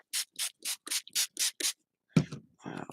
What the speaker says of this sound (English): Spray this again.